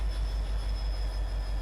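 A train rolling steadily along the rails in Farming Simulator 25, a continuous low rumble with faint wheel noise, close and even throughout, no voices.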